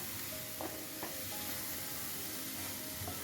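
Salted bottle gourd pieces, mostly dried out, are stirred as they fry in a pan, giving a quiet, steady sizzle with occasional faint scrapes of the spoon, heard close and without voices.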